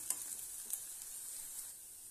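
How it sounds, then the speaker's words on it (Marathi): A crushed garlic, chilli and coriander masala sautés over a low flame with a faint, even high sizzle, broken by a few light taps of a spoon stirring in the pan. "तर चला आता हा मसाला याच्यासोबत आपण थोडं छान स्लो गॅसवरती परतवून घेऊया"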